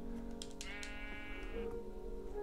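Sheep bleating in the Minecraft video game, a single wavering bleat heard quietly and close, with no other sounds around it.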